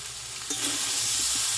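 A spice mix with sugar is stirred in a hot pan for a raw-banana dish, with a dense, steady sizzle and a few soft scraping strokes close up.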